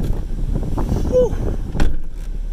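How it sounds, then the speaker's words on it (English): Strong wind buffets the microphone at a carp fishery in a steady low roar, with brief gusts and faint background noise throughout. "Jesus, it's windy."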